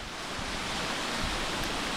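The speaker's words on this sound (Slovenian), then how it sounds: "To je skozi slap, bi rekel," Water rushing steadily through a canyon waterfall on Pohorje, Slovenia, a dense continuous broadband roar, close and unbroken with no voices.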